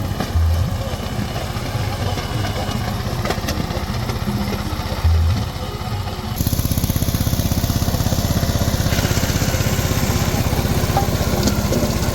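Mini tractor engine running on a farm, a steady mid-pitched putter that grows louder and denser partway through, continuing close and unbroken throughout.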